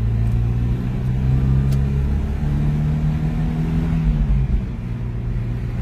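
A Ford Scorpio 2.0 GL pulls hard in second gear, its engine droning loudly from inside the car with a rising then easing tone and a constant road rumble beneath.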